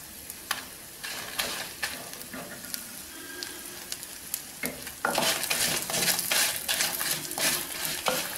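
Cashews and chillies sizzle and fry in a pan for pepper kulambu, with repeated spoon scrapes and stirring clatter, the frying growing louder and denser partway through.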